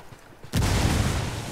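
A frag grenade in the shooter game Ghost Recon Wildlands goes off with a sudden loud blast halfway through, followed by a sustained rumbling boom after a quiet moment.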